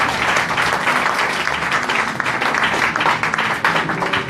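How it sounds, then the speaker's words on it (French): A church congregation applauds to acclaim the Lord, with dense, steady clapping that fills the room loudly and evenly throughout, a few voices faintly mixed in. "Je veux qu'on acclame le Seigneur pour nous."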